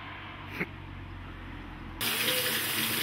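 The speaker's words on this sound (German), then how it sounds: "So, jetzt waschen wir schon mal die Äpfel." Tap water pours steadily into a sink as apples are washed for homemade apple juice, a constant close rush that grows louder and brighter partway through.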